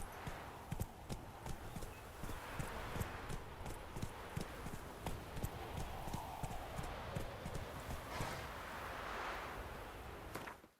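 Geralt's horse Roach gallops in The Witcher 3, a steady rapid clip-clop of hooves that runs throughout at close range with no voices over it.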